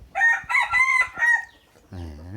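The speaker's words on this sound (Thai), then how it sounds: "ไก่ขันเสียงเพราะเลย" A rooster crows nearby, a loud drawn-out cock-a-doodle-doo in several rising and falling pulses, followed by a short lower voiced sound.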